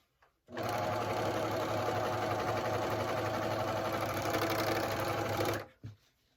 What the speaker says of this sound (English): I use the machine to cut the fabric because it makes it quicker.